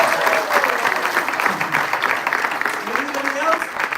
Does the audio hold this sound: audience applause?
yes